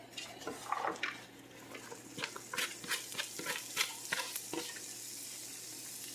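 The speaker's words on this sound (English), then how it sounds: "you can hear the sizzle ever so slightly" Quiet sizzling of carrots and onion in a heated pan with scattered stirring clicks and scrapes of a utensil, steady and low throughout.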